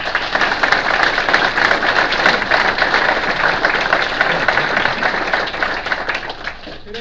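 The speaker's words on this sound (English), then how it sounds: "Let's give them a round of applause." Audience applause at a governor's event in Salamanca, a dense, steady wash of many hands clapping for about six seconds before thinning out slightly near the end.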